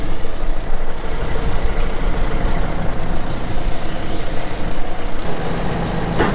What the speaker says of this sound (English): So we use the forklift at the back to support that.